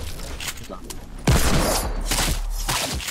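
Gunfire in Fortnite Battle Royale: a muffled burst of shots followed by a loud crack and a sustained barrage of rapid fire, mixed with clattering game noise.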